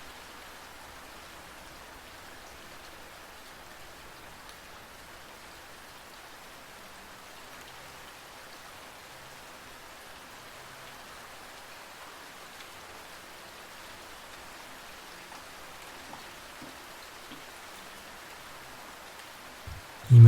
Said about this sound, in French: le rythme simple et répétitif de la pluie qui tombe